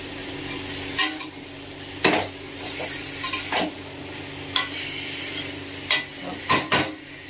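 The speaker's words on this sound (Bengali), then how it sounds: "তো এটা এবার আমি কষাই করে নেব।" Chicken marinated in oil, salt and turmeric fries in a pan under a constant sizzle, with repeated spoon-and-pan scrapes and clinks every second or so.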